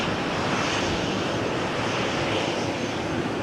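A Ryanair jet taxis for departure at Malaga Airport on a stormy morning, a steady broadband engine roar and rushing hiss holding constant throughout, with no voices.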